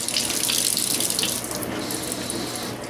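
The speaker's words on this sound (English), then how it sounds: "you want to get some hot tap water" Hot tap water pours from a kitchen faucet into a pan during meatloaf cooking, a loud, steady rushing hiss that eases slightly partway through, with no voices.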